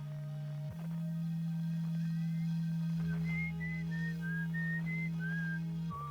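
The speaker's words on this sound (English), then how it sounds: "I thought someone was whistling on the sun." A melodic whistled tune drifting over a steady low drone in the space exploration game Outer Wilds, with a series of clear sliding notes recurring every second or so, moderately loud against the hum.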